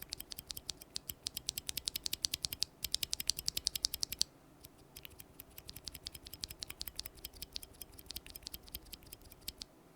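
Stock NovelKeys Cream tactile keyboard switches with a heavy 95-gram bottom-out force, pressed very fast in rapid bursts of sharp clacks, with a short pause partway through and no talking.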